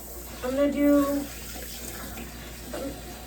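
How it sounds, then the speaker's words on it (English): A kitchen tap running while dishes are washed, a steady hiss of water throughout with a brief voice sounding over it near the start. "So we're just going to do some dishes."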